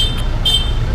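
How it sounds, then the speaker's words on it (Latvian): Car horns honk in a congested traffic jam on an Indian street, two short high-pitched toots standing out over a steady low rumble of engines and road noise. "Ir noteicis sastrēgums, viss pīpina."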